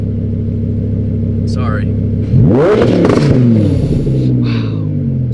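Red car engine idling with a low throbbing rumble, then revved hard once, the pitch sweeping up and falling back, with brief talk over it.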